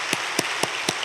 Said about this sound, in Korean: 우리 온 성도들이 감사의 박수를 드리겠습니다